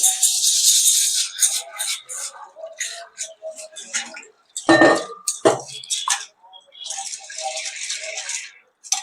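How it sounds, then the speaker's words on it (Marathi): Chana dal (split chickpeas) rinsed in a metal vessel, producing close, busy rattling and clinking bursts that come and go, with a sharper clatter midway. "ती आपण स्वच्छ धुवून गरम पाण्यात भिजत घालू"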